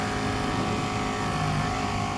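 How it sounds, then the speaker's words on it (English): A 250RR sports motorcycle's high-revving engine holds a loud, steady, buzzy drone close by, with no pauses and no talking. "It's got that insanely revvy engine."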